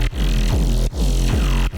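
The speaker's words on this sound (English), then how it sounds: "And then I have sub bass for the first half of the first drop" Distorted analog-style sine sub bass for the first drop of a colour bass track: two long, heavy, buzzing low notes with a pitch drop at each start, sharp breaks between them, loud and alone.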